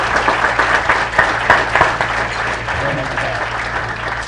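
An audience bursts into sustained, dense applause at the close of a congressional debate between Himes and Obsitnik, loud and steady with some voices mixed in.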